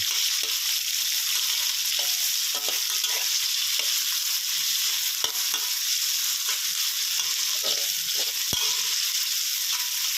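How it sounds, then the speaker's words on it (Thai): Pork sizzles steadily as it is stir-fried in a pan for a Thai straw mushroom and oyster sauce dish, with a constant loud frying hiss and occasional scrapes of the spatula, with no voices. "เราผัดให้ให้หมูมีความสุกนะครับ"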